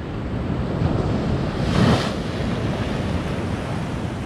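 Winter sea surf on the Crimean shore in January: a steady, broad roar of waves with one louder crash of a breaking wave near the middle, no voices.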